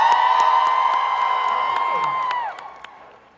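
A concert crowd at Deerhurst Resort in Huntsville, Ontario cheers and screams with high-pitched yells and whistles, loud at first and then fading out over a few seconds.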